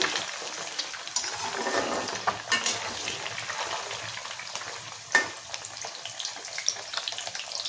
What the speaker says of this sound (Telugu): ఎగ్ పీసులన్నీ కూడా ఇట్లా స్లోగా వేయించుకోండి, ముక్క చెదరకుండా ఉంటుందండి.